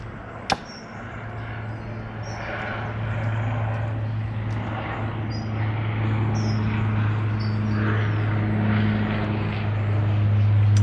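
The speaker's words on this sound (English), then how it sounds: "I'll let that aeroplane go over first." A propeller aeroplane passes overhead above a garden, its steady low engine drone holding throughout and slowly growing louder, with insects chirping faintly in the background and a single sharp click near the start.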